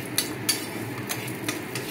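Whole cardamom, cinnamon and cloves are stirred in hot oil in a pan, giving a few sharp spoon clicks and scrapes against the metal over a low, soft background, close and brief, with no voices.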